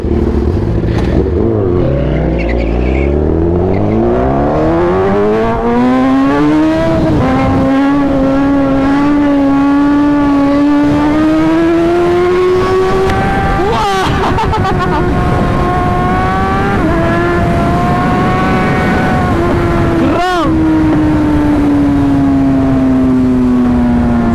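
BMW M6 driven hard for drifting, engine revving loud and close with rising and falling pitch sweeps through gear changes, plus sharp bursts and tire noise, continuous throughout.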